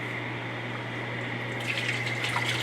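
Clam juices poured from a container back into a pot, a steady close liquid pour that swells slightly louder toward the end, with no talking.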